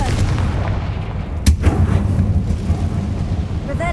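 A single Confringo blasting spell explodes in Hogwarts Legacy, one sharp burst over a steady low ambient rumble, with no talking.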